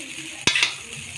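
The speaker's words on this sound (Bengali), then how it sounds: "তেলটা গরম হয়ে গিয়েছে, এবার চাউমিনগুলো আমরা কড়ার মধ্যে দিয়ে দেব।" Egg chow mein noodles dropped into hot oil in a wok give a sudden burst of sizzling and stirring, loud for about a quarter second, then fading back to a quiet kitchen background.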